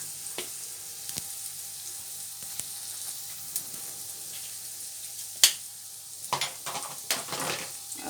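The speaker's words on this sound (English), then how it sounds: "Add a little garlic." Garlic with turmeric and spices sizzles faintly in a frying pan, a soft hiss broken by a few sharp clinks and scrapes of stirring.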